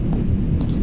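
Thunderstorm in the video game Heat Death: a brief, steady low rumble of thunder fills the space, loud and enveloping, with faint rain-like hiss above it.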